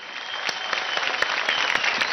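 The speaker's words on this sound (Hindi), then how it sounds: "इस सोच के लिए ताली।" An audience at a televised dance competition claps steadily throughout, a loud dense applause with sharp individual claps standing out near and far.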